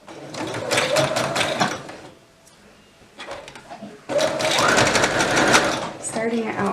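A sewing machine stitches fabric for a toddler's elastic waist dress in rapid mechanical bursts, running, pausing briefly, then running again close up, with someone talking over parts of it.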